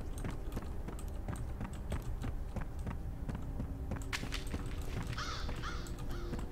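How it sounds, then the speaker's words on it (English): Crows caw repeatedly in the F.E.A.R. video game, several calls rising over a steady bed of ambient game noise and soft clicking, at moderate distance and without speech. "Okay, crows are too fucking... They are three spooky five me, I swear. Crows, man."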